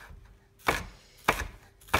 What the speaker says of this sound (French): Donc on hache l'oignon.